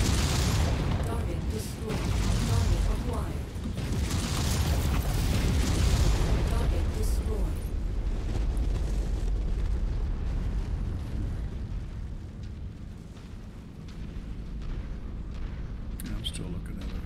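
Dense, rumbling explosions from the MechWarrior 5 video game crowd the first half, booming and bursting in quick succession before thinning into a lower, fading roar.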